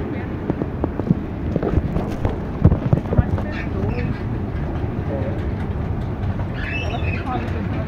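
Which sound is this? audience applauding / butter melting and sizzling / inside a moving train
inside a moving train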